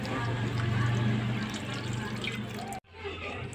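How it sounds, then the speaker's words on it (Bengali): Running water washing Malabar spinach leaves, a steady loud splashing wash that cuts off abruptly near the end before resuming more softly. "তো এই যে আমি পুঁই শাকের পাতা দুটো ধুয়ে নিলাম।"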